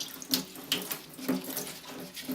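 Tap water runs and splashes while homemade wine equipment is rinsed, with a steady close flow broken by small sloshing surges.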